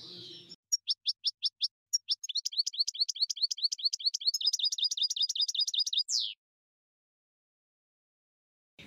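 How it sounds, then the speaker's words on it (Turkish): A goldfinch sings a bright, rapid series of high twittering chirps, first spaced then running together in a fast trill, close and clear, then stops. "Karşılıklı arkadaşlarla kuş öttürürüz."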